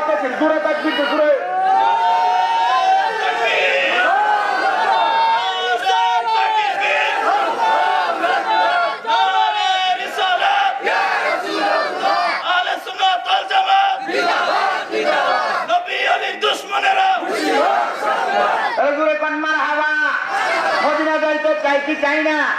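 At an outdoor religious mahfil gathering in a field, a large crowd shouts takbir together in loud, repeated collective chants. The shouting swells and dips, and a preacher's voice rises over it at times.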